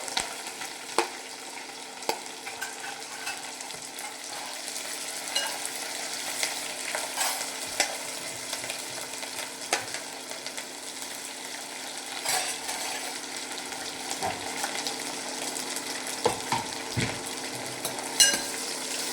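Green chillies and onions frying in hot oil for a village-style brinjal and potato curry, a steady close sizzle with frequent light clicks and scrapes of stirring throughout.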